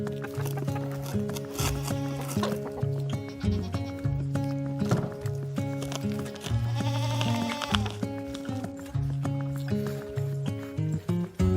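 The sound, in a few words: goats bleating, goats and their newborn kids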